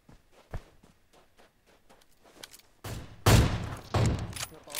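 Sniper rifle shots in an arcade-mode video game, a few sharp loud cracks in the second half after quieter footstep-like tapping.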